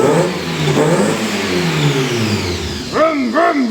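A supercharged Honda NSX engine revs in a workshop, its pitch rising and falling, and a voice then joins in with a sweeping imitation of the revving near the end.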